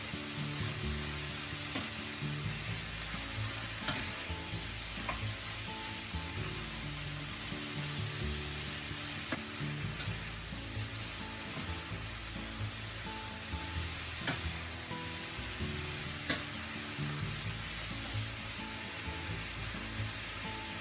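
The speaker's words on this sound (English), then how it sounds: "Let's add the cabbage. Keep cooking until the cabbage is roasted." Pork and cabbage stir-fry in a pan with a dense, continuous sizzle that stays quiet and even throughout, with faint scraping from occasional stirring.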